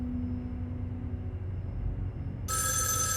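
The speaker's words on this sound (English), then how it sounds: "answer the phone" A telephone starts ringing in the PC game Erica, a sudden bright electronic trill cutting in after a low, quiet ambient hum, loud and close.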